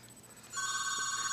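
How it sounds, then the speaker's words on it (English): A phone rings with a bright, steady electronic tone that cuts in suddenly partway through and holds, faint and alone with no talk. "Is that my phone?"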